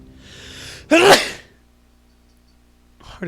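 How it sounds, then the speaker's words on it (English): One sharp, loud person's sneeze bursts out close by after a short inhale, then fades into quiet, with a brief voice starting again at the end. "because I sneezed"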